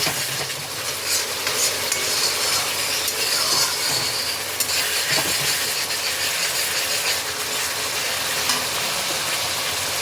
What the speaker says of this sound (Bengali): মশলাটা খুব ভালোভাবে কষে গেছে মশলা থেকে তেল ছাড়তে আরম্ভ করেছে আবারও আমি মিনিট খানেক একটু নাড়াচাড়া করে নিচ্ছি